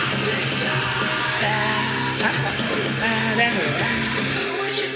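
A chopped, pitched scream sample repeats in stuttering bursts, forming a short melodic pattern over dense music.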